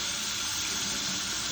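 Water runs steadily from a tap over chickpeas being rinsed, a constant close rushing flow with no voices.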